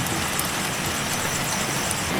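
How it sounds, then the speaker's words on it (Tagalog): Steady rain falls at night as a dense, continuous hiss, fairly loud and even throughout, with no voices. "Umuulan."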